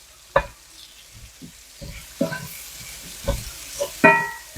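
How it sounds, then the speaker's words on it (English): Vegetables sautéing in a pan, heard as a quiet background sizzle broken by several distinct clacks and scrapes of a utensil stirring and knocking against the pan at irregular intervals. "We're going to let these saute down for a second."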